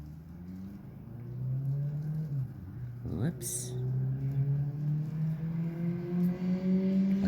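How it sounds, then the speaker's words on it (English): A motorcycle passes along a street, its engine tone rising and falling as it approaches and sweeps by midway, then a steady drone continues; a brief voice is heard once. "Wait till this car goes by. So noisy. Actually, motorcycle"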